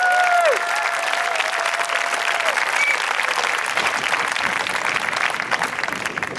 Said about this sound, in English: Please, big round of applause for acute medics for all their help.